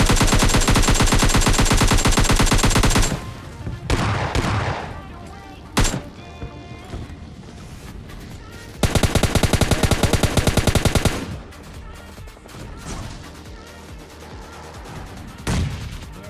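Gunfire in the PUBG Mobile Lite video game comes as long loud rapid automatic bursts at the start and again in the middle, with scattered single shots in between and someone talking throughout.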